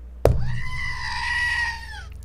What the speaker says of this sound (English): gotta give you a screaming goat